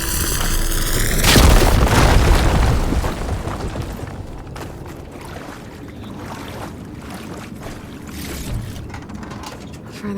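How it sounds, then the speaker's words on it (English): A fire gleam blows up in the game Horizon Forbidden West, a loud booming explosion that swells over a couple of seconds, then gives way to a crackling, rumbling tail with debris-like clatter fading out. "Should be able to blow up that fire gleam"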